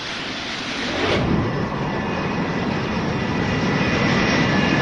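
Airliner jet engines roar steadily as planes stack up near an airport, a broad loud rumble that swells after the first second and holds strong throughout.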